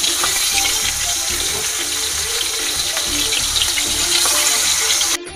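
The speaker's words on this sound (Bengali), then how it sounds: "ওদিকে আমার মাছ ভাজা হচ্ছে" Fish pieces fry in hot oil for a Bengali khichuri meal, a steady close sizzle and crackle that continues without a break and drops away abruptly at the end.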